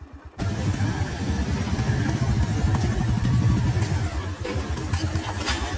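A motorbike is ridden over a rough, uneven rural road, its engine a steady, close, pulsing drone that holds loud throughout with slight surges and bumps.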